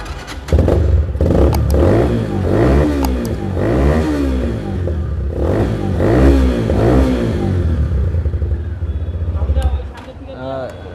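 A Regal Raptor GTXL 160cc motorcycle engine runs loud and close, its rumble rising and falling in repeated revs for about ten seconds before settling, with a voice over it.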